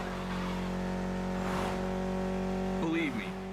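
A Mitsubishi inline four-cylinder engine of about 280 horsepower drones steadily in The Crew Motorfest racing game, then its pitch dips and wavers near the end, with someone talking over it.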